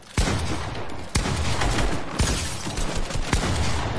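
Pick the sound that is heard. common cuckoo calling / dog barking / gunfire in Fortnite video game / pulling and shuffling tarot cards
gunfire in Fortnite video game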